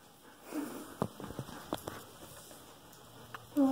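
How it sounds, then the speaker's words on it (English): Close, noisy sniffing and snorting breaths from a dog in short irregular bursts, a few sharp puffs standing out, with a brief tonal squeak at the end. "Oh my gosh, she's breathing so freaking loud."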